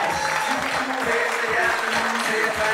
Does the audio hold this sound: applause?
yes